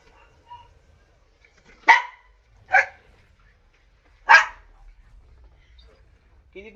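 A pet dog barks three sharp, separate times at close range in an otherwise quiet room, with short pauses between barks.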